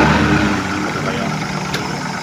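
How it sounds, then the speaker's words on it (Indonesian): A 3-cylinder car engine idles just after starting, a dense, slightly uneven rumble held at a steady loud level throughout with no pauses. "kita udah starter, kita udah nyalakan mesinnya. Ini kondisi langsamnya."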